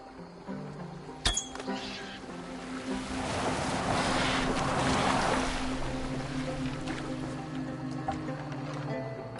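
A boat moves over the water in Assassin's Creed Valhalla, with soft wave wash and wind swelling in the middle, faint and steady beneath a low hum, after a sharp knock early on.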